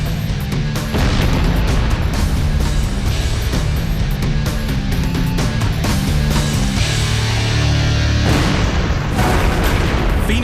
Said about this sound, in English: led to the 2 most powerful explosions Murdoch, Illinois has ever experienced